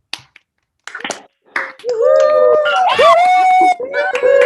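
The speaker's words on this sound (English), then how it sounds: "All guests may unmute their mic and join me in applause." Online guests at a law school intramural competitions banquet unmute and clap together over a video call, a jumble of scattered claps mixed with overlapping cheering voices that swells after a few quiet, patchy seconds.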